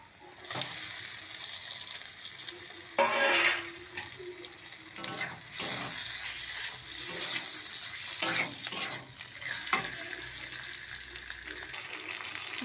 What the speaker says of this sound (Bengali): বেগুনটা একটু কষে নেবে।